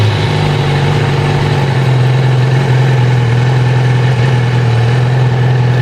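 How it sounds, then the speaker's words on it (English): A Yamaha R6 motorcycle with a fault, started for the first time in years, idling steadily up close with a loud, even low hum and constant vibration and no pauses or talk. "the bike fires up, no problem."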